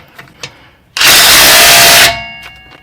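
A Ryobi impact wrench tightens stubborn nuts in a single loud burst of rapid whirring hammering lasting about a second, framed by a few faint clicks and handling sounds before and after.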